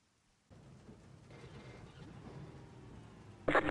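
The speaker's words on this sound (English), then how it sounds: "No sign of this rain stopping." Rain falls during a wet iRacing race with a BMW M4 GT3 EVO at Summit Point: a steady hiss that begins after a short quiet moment, with a sudden louder burst at the end.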